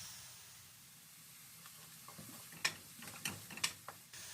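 Mince meat frying in a pan with dark sauce, a soft steady sizzle and hiss, then a few sharp clicks and scraping stir sounds near the end.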